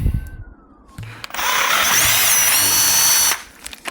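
Power drill boring a 6mm hole into a curved 5L plastic pressure sprayer tank, a loud close high-pitched whine lasting about two seconds before cutting off, with softer handling noises around it.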